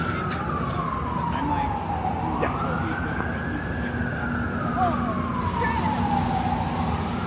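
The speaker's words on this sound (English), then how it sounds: "There is a chorus of sirens playing." Several sirens wail at once in the distance in downtown Toronto, one rising and falling slowly while others overlap, over steady city traffic noise.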